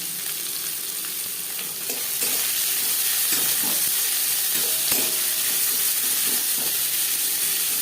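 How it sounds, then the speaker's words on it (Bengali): Chopped onions fry in a little oil with panch phoron and bay leaf, giving a loud, steady sizzle that grows stronger after about two seconds, with light scraping from stirring. "পাঁচফোড়ন তেজপাতা ভেজে নেওয়ার পর দিয়ে দেবো পেঁয়াজ"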